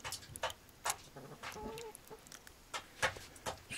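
Chickens cluck close by in short, scattered bursts with a few sharp clicks between them, quiet overall, with no voices.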